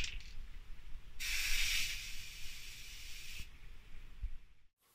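Aerosol can of primer spraying in one sustained, close hissing burst of about two seconds, preceded and followed by quieter background noise.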